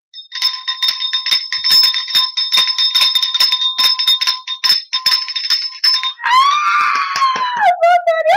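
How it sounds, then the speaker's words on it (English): A loud bell rings continuously in rapid strikes for about six seconds, a sustained metallic clangor, followed by a high-pitched whoop or squeal. "Here goes the bell."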